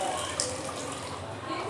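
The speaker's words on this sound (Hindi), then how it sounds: "इसे ऊपर से पानी से धो लेंगे ताकि इसका जो खट्टापन है ना वो निकल जाए।" Water pours steadily over curdled milk (chhena) held in a cotton cloth, rinsing it in a continuous, close running splash with no clear breaks.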